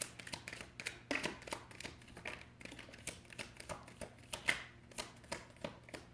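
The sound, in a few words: tarot cards being shuffled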